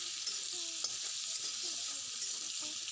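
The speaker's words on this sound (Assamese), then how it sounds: "পিঁয়াজখিনি ভালদৰে ৰঙচুৱা হোৱালৈকে ভাজি থাকিম।" Oil sizzles steadily in a pan as onions fry, a soft, even frying hiss, fairly quiet, with a few faint scrapes of stirring.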